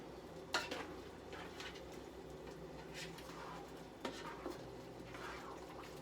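A spoon stirs food in a pot, with soft scraping and sloshing under a low background hum and two distinct clanks of the spoon against the pot.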